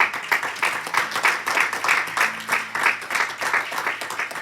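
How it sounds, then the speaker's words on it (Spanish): A church congregation applauds in rhythmic, unison clapping, steady beats roughly every third of a second, moderately loud and fairly close, with no voices over it. "¿Cuánto le dan un aplauso al Señor?"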